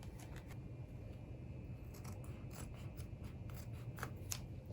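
Scissors snip upholstery fabric in short, quiet repeated cuts, a faint crisp rhythm of small bites taken a little at a time on a bench being reupholstered.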